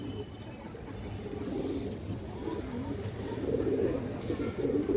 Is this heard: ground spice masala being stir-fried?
no